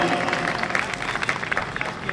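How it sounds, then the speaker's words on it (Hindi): An audience applauds to encourage a young ghazal reciter at a poetry gathering, a dense, steady wash of clapping hands filling the whole stretch, fairly close and loud. "तालियां बजा के एक बार हौसला बढ़ा दीजिए"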